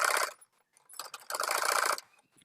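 A sewing machine stitches a blouse sleeve in two short bursts of rapid mechanical clatter, separated by a brief pause, close and fairly quiet.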